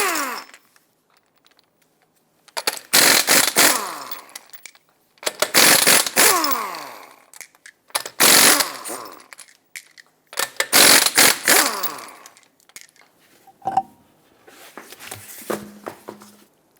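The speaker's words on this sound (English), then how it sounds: "Use a 21mm socket and remove all 5 of your lug nuts," A power tool spinning a 21mm socket to remove the five lug nuts on a 2014-2021 Mazda 6 front wheel, heard as several loud, close bursts of whirring and rattling separated by short pauses.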